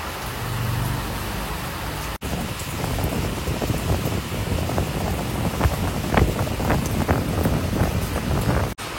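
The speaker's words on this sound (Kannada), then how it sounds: "ಜೋರಾಗಿ ಬಂತು ಮಳೆ" Heavy rain pours down beside a road with gusting wind, a dense continuous hiss broken by sharper pattering spikes of drops striking nearby surfaces.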